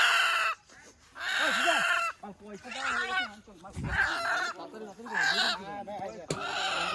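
Chickens cluck and squawk repeatedly up close, with excited calls rising and falling in irregular bursts.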